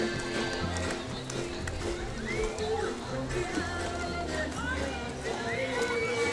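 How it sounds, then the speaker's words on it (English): Hooves clip-clop at a steady trotting rhythm as trained horses pass in a street parade, amid a busy outdoor crowd with voices and announcement-style talk running over the hoofbeats. "Some highly trained horses here"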